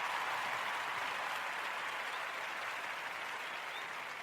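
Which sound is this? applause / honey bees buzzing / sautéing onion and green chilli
applause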